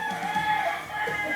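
A chicken's short crowing call rings out briefly, close by, over faint background noise.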